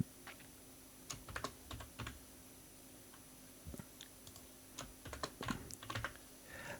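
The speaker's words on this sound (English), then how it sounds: "So we'll type in a name." A name being typed on a computer keyboard, with quiet, irregular clusters of key clicks separated by short pauses and no talking.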